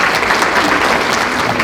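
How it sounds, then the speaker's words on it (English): An audience applauds steadily at a community overdose awareness summit in 2023, a dense, loud wash of clapping with no pauses, close and filling the room. "Give her a round of applause one more time."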